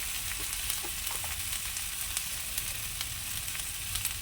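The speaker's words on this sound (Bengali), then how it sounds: "কাঁচা লঙ্কা রসুন বাটাটা এবার একটু ভেজে নিয়ে" Green chili and garlic paste fries in a pan with a steady, dense sizzle, faint crackles popping through continuously without any talk.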